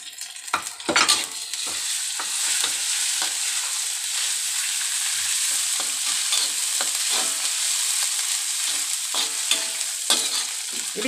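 Ginger and garlic fry in a pan with a loud, steady crackling sizzle close by, broken by a few sharp clinks and scrapes of a spoon.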